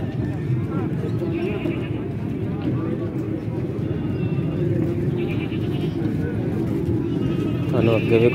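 Goats bleat at a crowded livestock market in Faisalabad, the calls rising out of a constant dense din of people talking and animals milling around nearby.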